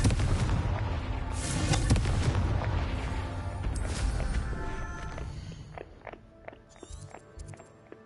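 Confringo fire spell blasting in the video game Hogwarts Legacy, a loud, dense rumbling burst of explosive noise for several seconds that fades into scattered sharp crackles and small pops.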